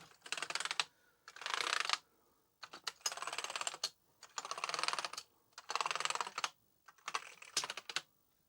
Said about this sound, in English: Let's just try this other spare Amiga 600 keyboard.